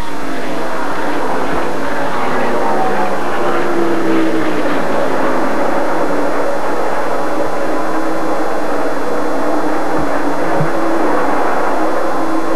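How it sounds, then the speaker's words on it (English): Stock car engines roar past during a 1992 NASCAR Winston Cup race at Atlanta, a dense, loud, continuous wash of motor noise that swells as cars pass, with no talk over it. "Listen to the motors."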